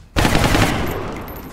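A single loud burst of gunfire rings out in the turn-based strategy game XCOM Long War, starting with a sharp crack and trailing off into a fading rumble, with no talk over it.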